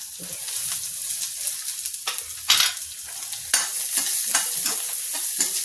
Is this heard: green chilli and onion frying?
yes